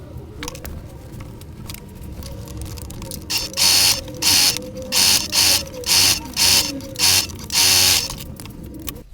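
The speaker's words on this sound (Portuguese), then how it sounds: "E agora eu vou passar uma costura bem rente aqui, para ficar bem assentado esse tecido." A sewing machine stitches a seam close to fabric on a patchwork zippered pillow cover, running in about nine quick bursts of whirring that start and stop in a steady rhythm, close and loud.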